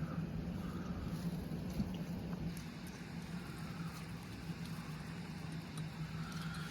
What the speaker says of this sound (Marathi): इकडं टोटल पाण्याचा आवाज येतोय सगळा कास तलावात जे पाणी पडतंय ना